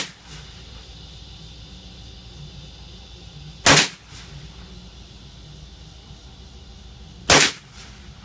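Two loud, sharp single shots from a Kel-Tec CMR30 rifle in .22 WMR at an outdoor range, spaced several seconds apart, each a crisp crack standing out over a quiet background hiss.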